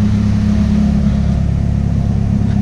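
Car strapped down on a dyno, engine idling steadily with a low, even rumble, close and loud with no talking.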